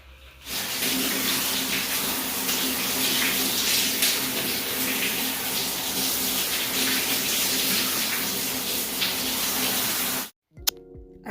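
Steady running water from a tap splashing during a hair wash, continuous and fairly loud for about ten seconds before it cuts off abruptly.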